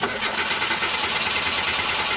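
A Mitsubishi Lancer engine with low power is cranked and then catches, giving a steady, fairly loud mechanical whir that continues evenly throughout.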